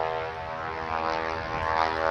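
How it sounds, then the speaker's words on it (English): A propeller airplane flies by with a steady, fairly loud drone, and the engine's tone holds even and continuous with no talk. "we have lots of great airplanes flying here."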